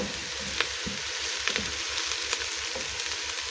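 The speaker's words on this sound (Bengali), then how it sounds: "আমি এই পেস্টটাকে এখন লাল করে ভেজে নিব।" Spice paste fries in a pan with a steady soft sizzle and crackle throughout, a few sharper pops and spatters rising above it, no voices.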